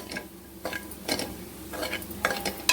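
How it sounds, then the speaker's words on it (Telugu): Chili powder fries in a pan, giving a faint, light sizzle broken by repeated scraping strokes and soft metallic taps of a stirring spoon. "ఇంత బాగా వేగుతుందో ఇది."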